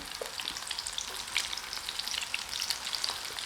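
Battered mushroom pieces deep-fry in hot oil with a steady, fairly soft hiss and fine bubbling crackle, close by and uninterrupted, with no one speaking.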